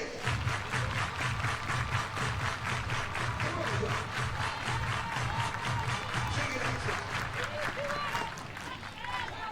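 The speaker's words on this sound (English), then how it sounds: "Everybody clap your hands." A college softball crowd at an Oklahoma vs Missouri game claps in unison to a steady beat, loud rhythmic hand claps repeating through the whole stretch amid stadium noise, with announcer talk mixed beneath.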